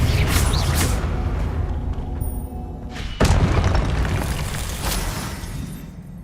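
A Confringo spell explosion in Hogwarts Legacy lands as a sudden booming burst around the middle, rising out of a dense rumbling background of game noise and effects.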